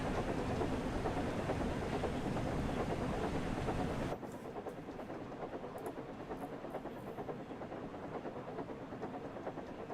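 Two steam trains rolling along in Train Sim World 5, a steady loud rumble with faint clickety-clack that drops noticeably in level partway through as the game volume is lowered.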